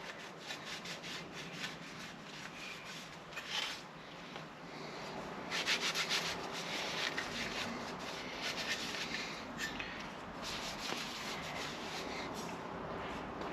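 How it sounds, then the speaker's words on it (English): A scuffing pad rubs over a rusty metal hinge, giving steady close scratchy strokes with irregular louder bursts of abrasion and no talking. "so you scuff this piece here up right now"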